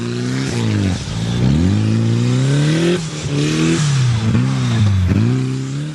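A 4x4 off-road competition vehicle with a modified 2-litre engine revs hard and loud at a national 4x4 challenge, pitch rising and falling repeatedly as it accelerates, eases off and climbs again.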